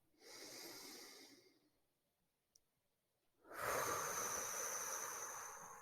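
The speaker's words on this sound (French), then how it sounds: "J'inspire et j'expire." Slow, deep breathing close to the microphone: a long airy inhale, a quiet pause, then a longer and louder exhale, with no speech.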